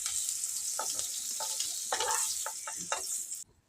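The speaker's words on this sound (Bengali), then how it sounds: "এই দেখুন, আমি শুটকি মাছগুলোকে এইভাবে ভেজে নিয়েছি।" Dried fish (shutki) sizzling in a hot pan, a steady bright frying hiss broken by several short crackling spits, close and fairly loud, then cutting off abruptly near the end.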